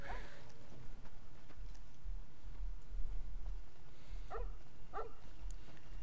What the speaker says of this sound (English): Shut up, you dumb dog.